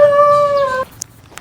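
Dog howling on the way to a bat cave, one steady, sustained, loud howl that cuts off sharply, followed by a couple of faint clicks.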